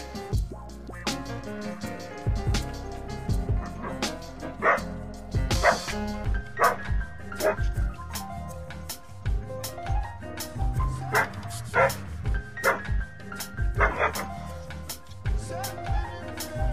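A neighbor's dog barks repeatedly next door, a series of sharp, loud barks and yips in irregular bursts with some whimpering and scratching, fairly close and alone without talk.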